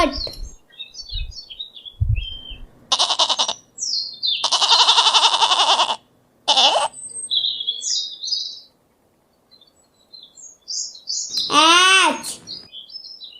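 A goat gives one wavering bleat near the end, following scattered bird chirps and short bursts of other animal sounds.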